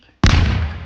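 A bomb blast in a Roblox game goes off as a single sudden loud boom after near silence, then a rumbling decay that fades out over the next second.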